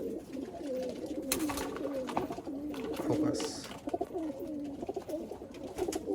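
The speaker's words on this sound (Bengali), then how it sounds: "এই আর একটা মালবাহী পায়রা দেখাচ্ছে আপনাদের" Malwai pigeons from Punjab coo repeatedly in warbling, rolling phrases, close and fairly loud, while someone talks over them.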